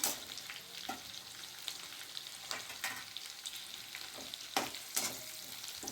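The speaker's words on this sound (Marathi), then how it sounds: "आणि मिरची घालून घ्यायची आहे। छान प्रकारे असे परतून घ्यायची आहे।" Green chillies with garlic and cumin paste sautéing in a pan for Khandeshi vangyache bharit, a quiet continuous sizzle with occasional scrapes and clacks of a stirring spoon, close and unaccompanied by speech.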